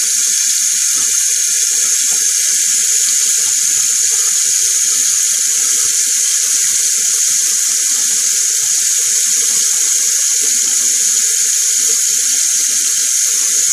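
Tap water runs steadily while shaving gear is rinsed at a sink, a continuous close hiss with faint scattered clinks underneath, with no talking.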